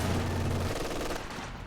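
Maxim machine gun firing in Company of Heroes 2, a dense burst of rapid automatic fire mixed with battlefield noise, strong for the first part and then trailing off.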